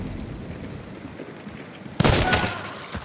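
A loud burst of gunfire erupts in Hunt: Showdown, a sharp gunshot with echoing crackle and rumble that rings on for about a second after a low, quiet stretch of game ambience.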